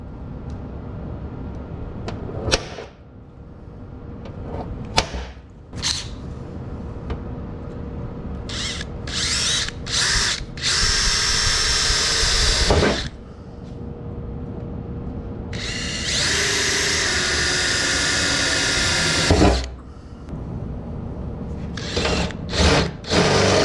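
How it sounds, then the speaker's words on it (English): A power drill bores holes into the metal body of a Peugeot Boxer van to fit a snorkel kit, running in several bursts of varying length with short pauses between them, close up and loud. "which allows you to drill into these areas here."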